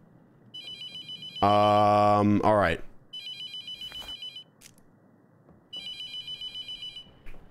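A phone rings in the horror video game The Mortuary Assistant, three bursts of a trilling electronic ring separated by pauses, loud and close, with a person briefly speaking between rings.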